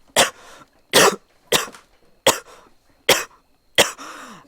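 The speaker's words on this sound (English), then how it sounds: "pause coming out conveniently to cover my coughing fit" Six harsh, loud coughs come close together at a steady rhythm, each sharp burst followed by a short rasping tail, with no talk between them.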